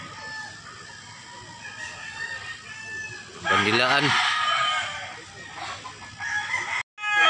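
A rooster crows once, loud and close, rising and falling over a farmyard backdrop, while people talk nearby before and after the call.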